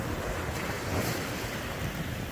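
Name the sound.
heavy rain pouring down on a beach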